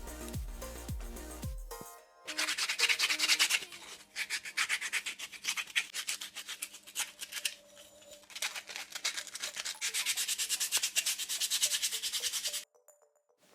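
Rhythmic scratchy rubbing of a sanding belt against a wooden tree-fork slingshot, fast back-and-forth strokes continuing for about ten seconds, close and fairly loud, ending abruptly.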